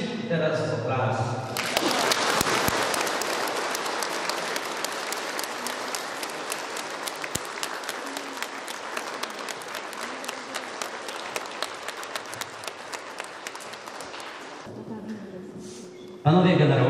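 Audience applause at a school's 30th-anniversary ceremony honouring the 7th Lublin Uhlan Regiment, a dense, steady round of clapping from a large crowd that swells quickly and holds for about thirteen seconds before cutting off, with brief voices at either end.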